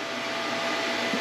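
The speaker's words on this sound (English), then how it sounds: "She has the blow dryer running and the power straightener thing running." A blow dryer and an electric hair straightener run together in an off-grid mountain home, a steady loud broadband whoosh with an even hum that continues without a break.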